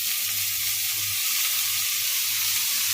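Fresh spinach hits a hot pan for an egg scramble and sizzles loudly and steadily up close, a dense bright hiss with a faint low hum beneath and no talking.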